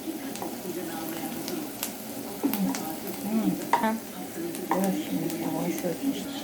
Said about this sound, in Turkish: Evet arkadaşlar kavuruyoruz. Galiba biberlerimiz olmak üzere.